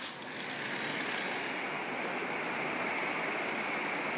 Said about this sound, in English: it's pouring out, but one of the best things about this house is how the sunroom sounds, because it's actually a metal roof